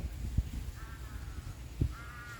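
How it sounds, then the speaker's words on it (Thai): Crows caw in short, sharp bursts, two clear calls a second or so apart, in a garden just after rain, with fainter bird calls and a soft background hiss between them. "นกนักร้องกันเจียวจ้า"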